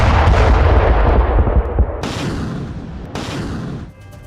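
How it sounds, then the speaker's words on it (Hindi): Russian MLRS rocket artillery firing a barrage in Kursk: a loud, dense rumble of continuous launches and booms, with two further sharp blasts cutting in partway through and fading at the end. "MLRS सिस्टम से बारूदी बौछार की गई।"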